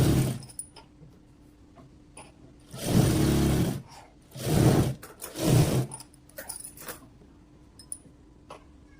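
A sewing machine stitches blouse fabric in three close, steady whirring runs of a few seconds each, separated by quiet pauses with small clicks and handling sounds, and no voices.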